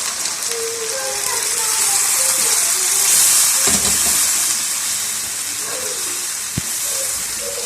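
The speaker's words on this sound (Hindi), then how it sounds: "अभी हमने जो जिस पानी के अंदर गोश्त को बॉयल किया था, यानी जो यखनी बनी हुई थी, अभी उसको शामिल कर देंगे इसके अंदर।" Mutton stock (yakhni) poured into fried masala in a pan for a Pakistani mutton korma gives a steady hiss and sizzle that swells and settles, with a brief clunk partway through.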